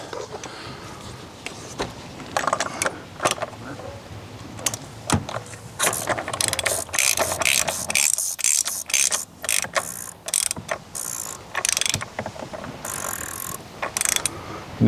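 A ratchet tightens a part during servicing of a Range Rover Sport L320, with loud, close bursts of rapid clicking separated by short pauses and small metallic handling noises.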